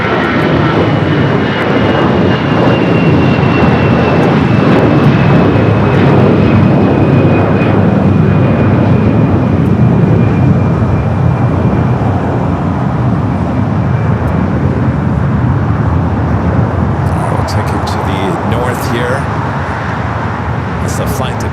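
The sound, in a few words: Airbus A321 departing LAX for Chicago O'Hare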